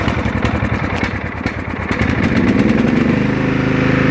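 A riding lawn mower engine cranks with rapid chugging pulses, then catches and settles into a loud, steady running drone close by.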